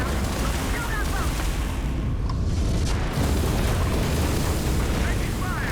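Continuous heavy booms and gunfire from space combat in the video game Starfield, loud and dense throughout with no pause.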